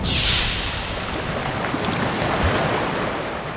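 Sea waves surge and wash continuously, loud and close, with a strong rush at the start settling into a steady roar, mixed with wind buffeting; no voices.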